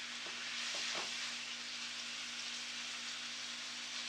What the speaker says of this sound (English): Nice sizzle going on.